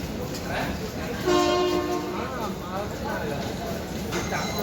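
A train rumbles at a busy Mumbai-area railway station with a brief horn sounding mid-way, steady clatter and crowd noise underneath, and people chatting nearby.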